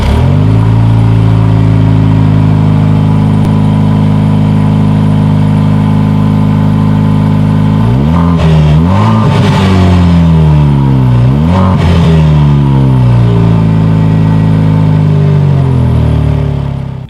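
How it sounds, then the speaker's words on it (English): A 2020 Jaguar F-Type with the four-cylinder engine sits at a steady, loud idle, then its exhaust barks through several sharp revs that rise and fall, with a last blip before it settles back to idle. "here is that exhaust clip"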